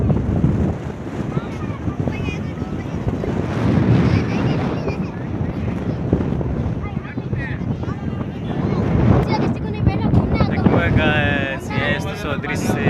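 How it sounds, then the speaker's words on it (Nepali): A strong wind blows at the seaside in Surat, Gujarat, roaring and buffeting loudly against the microphone in continuous gusts while a person talks over it. "धेरै हावा चलिरहेको छ"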